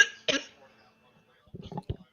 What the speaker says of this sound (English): You hear me cough?